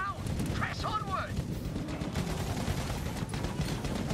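Overwatch 2 match gunfire rattles continuously as dense, rapid shots and blasts, with a brief voice at the start.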